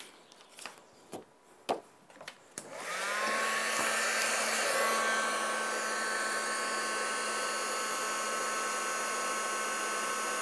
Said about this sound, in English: after the heat tool just warms up a little bit, you can see it's really coming along. Just melts that powder as you move it.